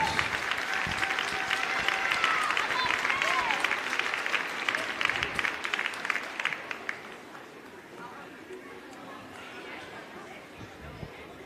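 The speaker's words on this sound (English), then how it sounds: "let's give our Spencer County High School senior dance a big round of applause." Crowd applause for a high school senior dance team at a boys basketball game in a gym, loud and sustained for about seven seconds, then fading to quieter crowd murmur and talk.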